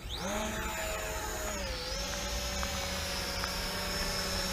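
Motors and propellers of a JJRC H73 camera drone spinning up for a manual takeoff, a steady high whine with a tone that dips and then settles as it lifts off, loud and close, with no voices.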